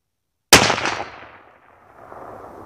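A single loud, close gunshot from a Mossberg MVP Patrol .308 rifle, a sharp blast with a ringing tail that fades over about a second, outdoors.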